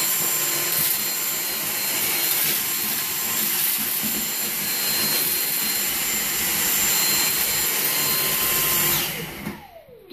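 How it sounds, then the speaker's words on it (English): Dyson DC59 Motorhead cordless vacuum on low speed picking up dust, a steady loud whirring drone with a high whine that runs for about nine seconds, then cuts off and spins down at the end. "So, it's on low speed, so here we go."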